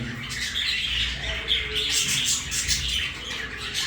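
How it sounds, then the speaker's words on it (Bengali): Red-collared lories squawk at a bird market, their harsh, overlapping calls repeating loudly and close over a busy background murmur. "এখানে কিন্তু রয়েছে এক জোড়া লরির মাস্টার ব্রিডিং পেয়ার ছেলে মেয়ে কনফার্ম রেড কলার লরি"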